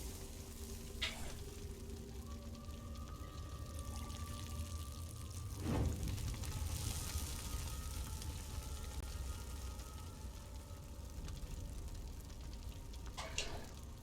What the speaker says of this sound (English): Pour it on the braziers.